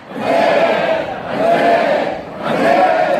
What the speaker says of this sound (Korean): 우리 신랑 신부이 행복하게, 앞으로 더 행복하게, 건강하게 잘 살아라고 만세함창으로 화답해 주신 시간 갖도록 하겠습니다.